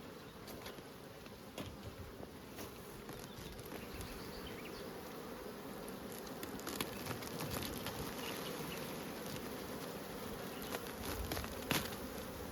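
A dense swarm of honeybees buzzes steadily around a crowded stacked hive, a continuous close drone with occasional louder passes of single bees and no speech.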